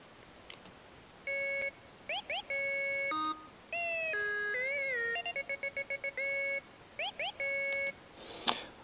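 The Big Benders preset synth in Native Instruments Massive plays a sequence of bright, bending lead notes with pitch glides and rapid stuttered repeats over faint background hiss, inside a bass-music beat.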